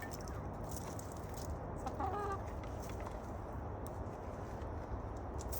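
Hens clucking on a farm during a Chinese mountain potato (shan yao) harvest on a bright November day, with soft, steady calls under a constant outdoor background hum and no talk.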